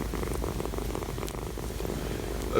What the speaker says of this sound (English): the purring sound is quite clear.